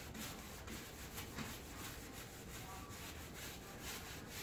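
A cloth or brush rubs white paint into a weathered wooden picture frame in steady back-and-forth strokes, a continuous close scratchy rasp with no talking.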